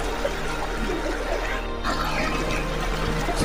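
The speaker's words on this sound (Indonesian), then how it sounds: "Karena arusnya cukup deras, jadi kami memerlukan tongkat untuk menyeberangi sungai ini." A fast-flowing river current rushes past at a campsite crossing, a loud, continuous watery roar that stays constant throughout, with no talking over it.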